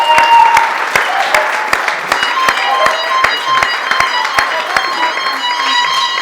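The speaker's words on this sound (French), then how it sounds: "we're just going to clap our hands for them." Guests at a traditional wedding clap their hands together, loud and close, in a fairly regular rhythm of sharp claps, with some background chatter mixed in.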